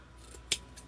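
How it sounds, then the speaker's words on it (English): One quick, crisp snip of scissors cuts through quiet room tone, a short bright click with a fainter echo of metal a moment later. "let's get the scissors"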